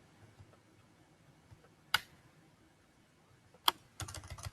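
Keys tapped on a computer keyboard while entering a search for a workplace policy: a few sharp isolated clicks, then a quick burst of faint typing at the end, close and quiet.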